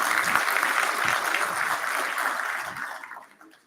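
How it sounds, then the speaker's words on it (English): An audience at an education sector lekgotla gives a sustained round of applause, dense and steady before fading out near the end. "Can we give them another big round of applause before?"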